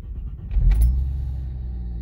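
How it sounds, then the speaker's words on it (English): A 1997 Ford EL car engine cranks briefly and catches, settling into a steady low idle rumble close by, with a faint click just before the start. "Okay, I'm about to start the car now."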